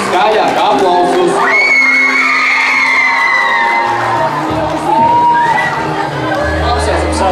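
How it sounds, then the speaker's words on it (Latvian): A school crowd of fifth- and sixth-graders at an aerobics day cheers and shouts loudly and continuously, with whoops and children's yells rising and falling under an excited hubbub. "Aplausus! Skaļāk aplausus!"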